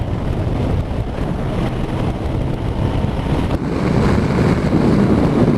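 Constant heavy wind buffeting roars against a rider on a 2019 BMW R1250 RT motorcycle at road speed, a dense low rumble that thickens slightly toward the end, loud and close with no speech.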